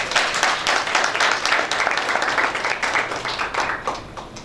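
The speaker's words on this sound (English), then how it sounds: "Let's all applaud for her." Steady crowd applause at a motivational speech meeting, many hands clapping at once, dense and fairly loud, continuing throughout without voices on top.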